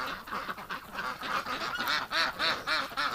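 Wet ducks kept for eggs quack repeatedly in winter, a rapid run of nasal calls overlapping one another, close and loud, with no talking.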